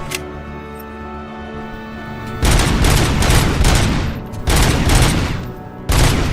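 Sustained automatic gunfire in the shooter game Robocop: Rogue City, loud dense bursts that start abruptly, break off briefly and resume twice, following a quieter humming lead-in.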